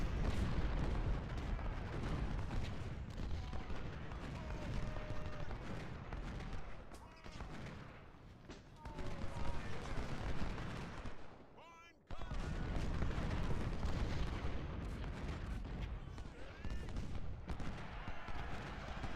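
Musket volleys roar in a Civil War battle in Ultimate General: Civil War, a continuous crackling, booming din of massed rifle and cannon fire. A voice speaks at times over it, and the noise briefly drops away partway through.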